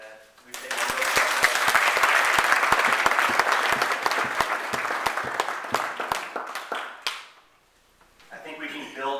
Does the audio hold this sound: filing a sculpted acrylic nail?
no